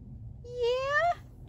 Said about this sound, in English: You gonna meow for us?